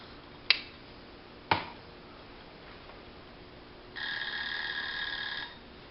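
Two sharp ticks from a kitchen egg timer come a second apart, then a bright metallic ding rings for about a second and a half before cutting off, in a quiet kitchen.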